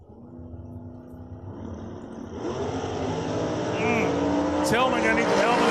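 Drag racing cars, one of them a 1963 Corvette, rumble at the line and then roar off with a rising engine scream. The sound grows steadily louder over the clip and a high whistling tone cuts in near the end.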